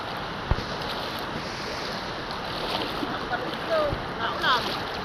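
River water rushes in a steady broadband wash as people cross a river on foot, with a soft thump near the start and faint splashes and small squeaks toward the end.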